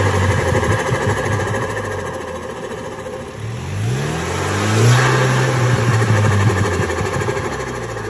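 A car engine fitted with a Burger tuner and set to sport mode revs hard while stationary, its pitch climbing in a loud surge midway before settling back to a steady, rumbling idle.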